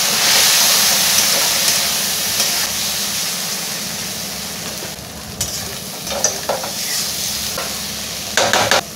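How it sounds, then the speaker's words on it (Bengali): Turmeric and chilli powder spice masala is stir-fried for a pasha fish curry with onion stalks, a loud continuous sizzle with scraping stirs that eases off midway, then scattered clinks and spatula knocks near the end; no voices. "হলুদ গুঁড়ো, লঙ্কা গুঁড়ো, ভালো করে মশলাটা কষে নেব"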